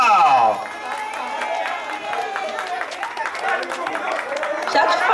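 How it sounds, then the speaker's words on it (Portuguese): Applause and cheering from a small crowd at a surprise birthday party for a husband in Guarulhos, a steady mix of clapping and excited voices that carries on throughout. "Uma salva de palmas, pessoal!"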